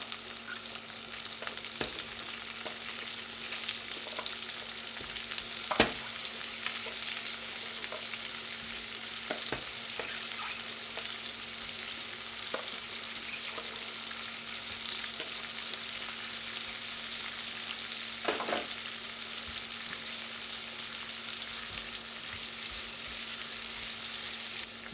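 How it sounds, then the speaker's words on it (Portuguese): Cucumber sizzles and fries steadily in a hot pan, a continuous close crackle with occasional sharp clinks and scrapes of stirring, no talking. "Olha, já fritou bem. Vou colocar agora o pepino aí, tá?"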